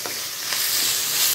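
Cooked rice being mixed with an amla mixture in a pan on a low flame, a continuous close hiss and scrape of stirring that grows slightly louder toward the end.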